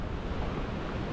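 Ocean waves on the main beach of North Stradbroke Island, heard as a steady broadband rush of surf mixed with wind noise throughout.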